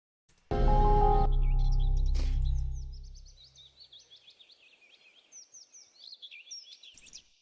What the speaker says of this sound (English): This was the birds chirping. That was that sound effect